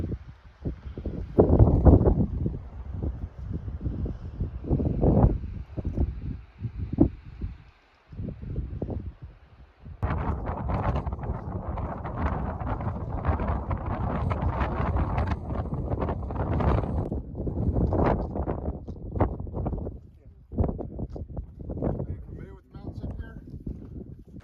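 Strong gusting wind on an exposed Appalachian Trail summit in New Hampshire, buffeting the microphone in loud roaring bursts; a voice talks intermittently over the rushing blasts.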